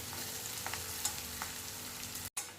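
Onions and chillies frying in a pan for puffed rice masala bhadang, a soft continuous sizzle with a few faint stirring taps, close but quiet, briefly cut off near the end.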